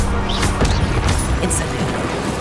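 A fire spell cast in a wizarding video game, a loud whooshing burst of flame with crackling and impact sounds, dense and close across the whole moment.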